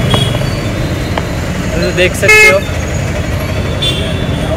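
Heavy traffic fills a busy market street in Hyderabad, a constant close rumble of vehicles with short horn toots, one longer honk in the middle, while someone talks over the din.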